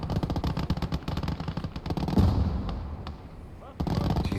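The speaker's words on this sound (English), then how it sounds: "You can see he's throwing grenades." Grenade explosions and heavy gunfire in the World War II game Gates of Hell: Ostfront, with fast rattling bursts and one deep blast that fades away before the shooting resumes.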